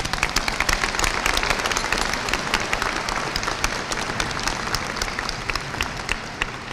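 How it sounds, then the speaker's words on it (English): Loud, dense round of applause from graduates and audience at a high school graduation ceremony, with sharp individual claps standing out, sustained for nearly seven seconds. "I would like to ask that we all give ourselves a round of applause."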